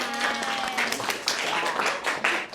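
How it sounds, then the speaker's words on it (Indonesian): Brief applause from a classroom audience after a teaching discussion session, light scattered clapping mixed with voices talking and chattering nearby. "Oke, tepuk tangan."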